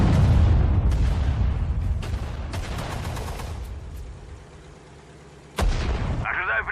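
Rapid bursts of gunfire and heavy booming shots from a Sudden Strike 4 battle, loud and dense at first, thinning to scattered cracks and a quiet lull before a sharp new blast.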